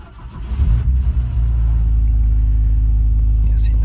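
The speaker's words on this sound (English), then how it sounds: "it seemed to fire up with no problem" A Nissan Skyline R34 GT-R fires up from a true cold start: a few uneven cranking bursts catch, then the engine settles into a loud, steady, deep rumbling idle.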